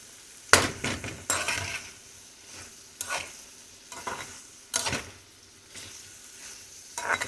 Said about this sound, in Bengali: সবই হালকা ভাজা হবে